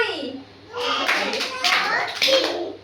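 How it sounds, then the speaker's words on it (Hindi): Children clap their hands in a classroom counting game: a few separate rounds of quick group clapping mixed with young voices chattering. "मु कहबी नंबर तमे ताली बजेबा"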